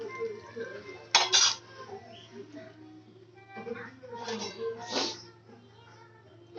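Rui fish curry is scraped and spooned from a pan onto a plate, with a few clear metallic clinks and scrapes spread across the moment, close by, over a low steady hum.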